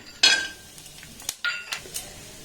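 Almonds fry in ghee in a metal pan while a utensil stirs them, giving soft sizzling under sharp scrapes and clinks against the pan at irregular intervals.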